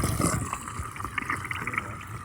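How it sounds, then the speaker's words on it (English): Water runs steadily into a motorhome's fresh water tank from a hose at a campsite in Wales, a continuous close trickling and gurgling flow with no speech. "I'm just going to top the water up."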